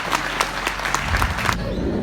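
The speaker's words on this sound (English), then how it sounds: "give yourselves all a big round of applause as well" A crowd at a Supanova pop-culture convention panel claps in a brief, dense burst of applause with scattered cheers, close and loud, fading slightly at the end.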